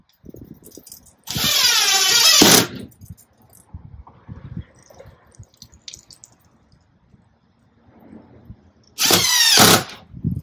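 Power drill driving screws to fix a EUFY SoloCam S40 security camera's thread mount in place: two loud, close whirring bursts of a second or so each, separated by quieter handling clicks and taps.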